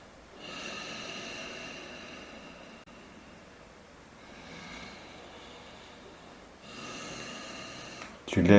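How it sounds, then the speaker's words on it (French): Deep, slow breathing close up, with three long drawn-out breaths separated by quiet pauses and a sharper sound at the very end. "ta respiration devient de plus en plus profonde."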